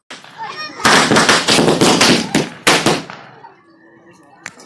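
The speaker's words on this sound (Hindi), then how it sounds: "ये बेटा पटाखे काहे फोड़े हैं तुमने?" Children set off firecrackers in a town street during Shab-e-Barat. A loud, rapid string of sharp bangs crackles for about two seconds, then thins to scattered pops, with faint voices around.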